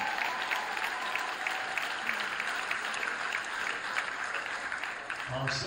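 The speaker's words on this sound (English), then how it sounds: "Big round of applause for our 8th grade boys basketball team." A school crowd cheers on an 8th grade boys basketball team with sustained, dense clapping that stays even throughout, some voices mixed in, and a brief talking voice breaking in at the very end.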